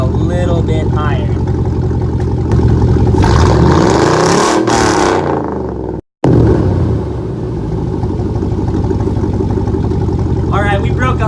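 A gas pickup truck engine revs loudly to almost 5,000 rpm, rising in pitch to a roaring peak, then cuts out briefly before settling back into a loud idle, with a voice speaking over it.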